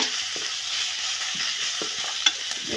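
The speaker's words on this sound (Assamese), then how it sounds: "আপোনালোকে বিলাহীখিনি ভাঙি নোযোৱালৈকে ভাজি থাকিব।" Tomatoes fry in a pan with a steady bright sizzle, broken by a few soft scrapes of stirring close by.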